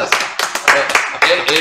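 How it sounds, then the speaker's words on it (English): Three guests in a music studio interview clap together in quick, uneven claps from a small group, close by, with voices talking over them. "Can we have a round of applause from the three guests here for this joint?"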